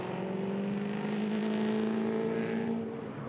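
A V8 touring race car, a Ford Falcon, lapping Queensland Raceway in 2016, its engine droning steadily at a distance, a sustained growling tone that swells slightly and then fades.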